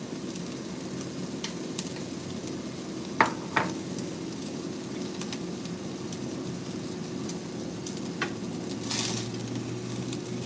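Tomatoes of mixed varieties sizzle and fry in a pan while being stirred, a steady low crackle with a few sharp utensil knocks against the pan partway through.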